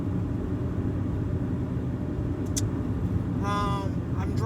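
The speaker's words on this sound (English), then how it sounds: "I'm driving, as you can see." Car driving, heard from inside the cabin: a steady low engine and road rumble that stays constant, with a brief high click partway through and a person talking over the drone near the end.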